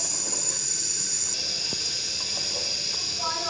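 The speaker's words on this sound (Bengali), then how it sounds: "আবার আমার চাল সেদ্ধ হয়ে আসছে প্রায়" Rice simmering in a pot of milk for Bengali payesh, giving a steady broad hiss and faint bubbling that runs unbroken throughout, close and moderately loud.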